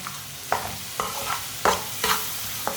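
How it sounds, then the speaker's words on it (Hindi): A masala for stuffed bitter gourd fries in a pan and is stirred repeatedly, a steady sizzle broken by rhythmic scraping strokes about every half second, close and clear. "सब मसालों को 1 मिनट के लिए पका लेंगे।"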